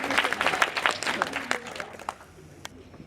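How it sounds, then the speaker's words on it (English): An audience claps in a burst of applause that thins out and fades to scattered claps, fairly close and alone with no talk. "Please give another round of applause for Judson."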